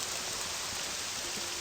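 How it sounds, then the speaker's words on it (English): Steady rainfall ambience in the video game Morrowind, a constant hiss of rain spread evenly throughout, moderately quiet with no talking over it. "let me lower the sound of the rain"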